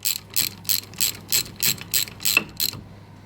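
A ratchet tightens bolts on a Dana 30 WJ steering knuckle and hub assembly, giving about nine rapid bursts of close metallic clicking in a steady rhythm, with no talk.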